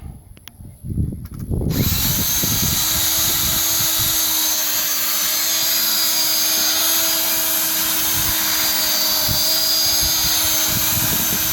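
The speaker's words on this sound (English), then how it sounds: "This is almost like working a hand mixer while making a cake." A drill-driven multi-blade mixer attachment chops rabbit manure for a bio digester, starting after a moment of handling noise and settling into a loud, steady motorized whine with a churning rumble that runs without pause.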